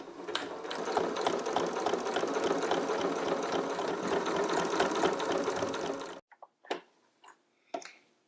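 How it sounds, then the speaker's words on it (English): A sewing machine with a guide foot stitching fabric for a tortilla warmer along a crease, a close, steady whirring chatter for several seconds that stops abruptly, followed by a few scattered clicks and handling knocks. "you're sewing directly right of this crease here"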